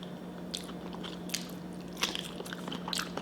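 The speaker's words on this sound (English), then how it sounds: "throw this potato in my mouth" Crunchy bites into a loaded baked potato topped with shrimp during a seafood mukbang, several sharp close chewing crackles spaced across a steady low room hum, with no talking.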